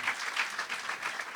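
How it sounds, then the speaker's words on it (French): An audience in a church in Poitiers applauds its hosts, a steady, fairly quiet wash of clapping lasting the whole short moment with no voices on top. "Est-ce qu'on peut les applaudir, les remercier?"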